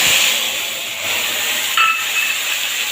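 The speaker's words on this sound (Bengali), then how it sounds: "এই সময় দিয়ে দেব বেটে রাখা টমেটো আর আদা" Ground tomato and ginger dropped into hot oil with tempered spices sizzle in a steady, loud hiss close by, with a faint metallic clink partway through, no voices.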